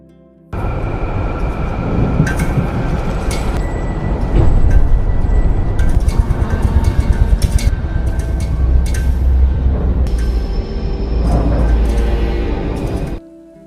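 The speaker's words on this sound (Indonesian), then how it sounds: "Lalu karena jaraknya yang cukup jauh, Ambar pun menaiki kereta" A train rumbles steadily along the track, with clattering wheel rhythms, squeals and rattles of the carriage continuing throughout, loud and close.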